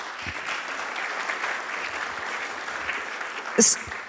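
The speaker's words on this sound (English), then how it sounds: "let's give them another round of applause" A conference audience at a democracy forum in a Maria Callas music theatre claps steadily in a sustained round of applause, fairly even in level throughout, with a brief louder burst near the end.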